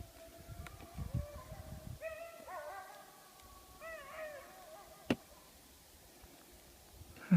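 Dogs at home sending up whining, howling calls in several rising bursts as their owner returns, fairly distant and moderate in level over low background rumble, with a couple of sharp knocks.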